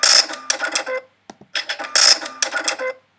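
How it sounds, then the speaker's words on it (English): A Foley cash register sound effect clatters and dings twice, mechanical rattling followed by a bright ring, with a short pause between the two. "something else that's a Foley cash register?"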